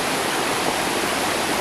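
River water flowing near a mountain trail, a dense, steady rushing roar of moving water, close and loud, with no other sounds over it.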